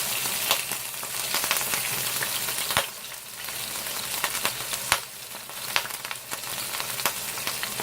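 Meat for a crock pot roast searing in a very hot pan, a loud continuous sizzle close up, punctuated by occasional sharp pops and a couple of clunks of the meat being shifted.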